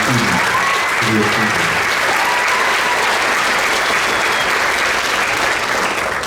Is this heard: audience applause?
yes